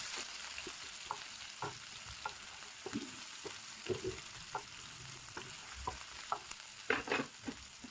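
Ginger and garlic frying in hot oil make a soft continuous sizzle, punctuated by irregular light stirring scrapes and taps that grow a little busier toward the end.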